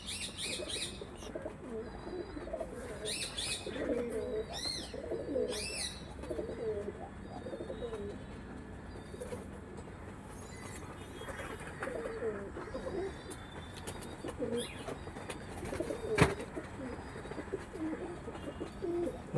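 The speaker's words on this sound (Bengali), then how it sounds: "দেখতে পারবেন এসব আরও দারুণ চেন্নাই ব্রিডের পায়রা" Chennai breed pigeons coo repeatedly in a loft, soft throaty calls overlapping with brief wing flaps and faint chirps from other birds, one sharp flap standing out near the end.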